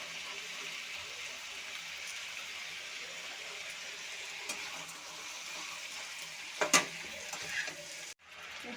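Vegetables frying in a pan for a Bengali cabbage dish, a steady soft sizzle with occasional scraping stirs and a sharp clatter near the end.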